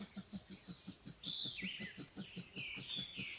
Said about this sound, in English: There might be recordings of the squawks though, because the squawks are audible.